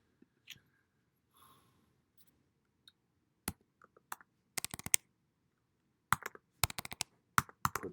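A password is typed on a computer keyboard: scattered, quiet key clicks arrive in short bursts with pauses between them, close up in an otherwise silent room.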